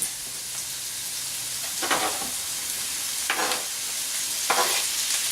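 Pepper, onion and jicama sizzle steadily in a hot skillet, a constant close hiss broken by three louder bursts as the pieces are stirred or moved.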